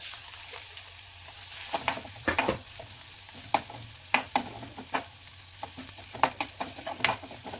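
Onions frying in about two tablespoons of oil in a pan, a crackling sizzle broken by frequent sharp scraping and tapping stirring strokes, close and clear with no talking.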